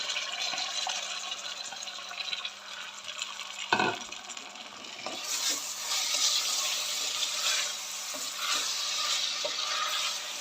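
Potatoes go into tomato or pepper paste frying in oil in a pan, with a soft steady sizzle, a sharp clatter of pieces dropping in, then stirring and continued frying.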